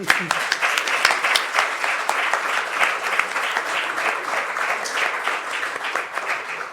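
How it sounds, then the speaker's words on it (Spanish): An audience at a Spanish-language journalism award event applauds steadily, a dense sustained round of clapping from a full room that holds throughout. "Un aplauso para ella."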